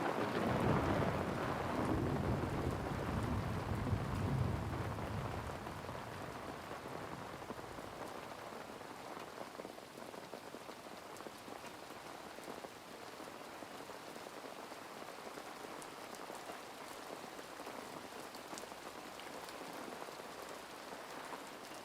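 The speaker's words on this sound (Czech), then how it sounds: "Mohutná bouřka doprovázená blesky a silným lijákem" Heavy thunderstorm downpour at night by a carp-fishing spot: dense, steady hiss of rain drumming on surfaces, with a louder low rumble of thunder in the first few seconds that fades, leaving continuous rain.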